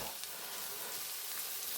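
Pilaf with canned stewed meat frying in a skillet, a steady close hiss and sizzle with no breaks and no voices.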